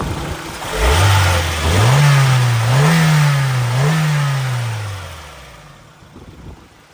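A 1996 Honda Orthia with a B18 engine and factory manual gearbox revs up while driving, the engine note rising and dropping through a few shifts before easing off, loud and close with no talking.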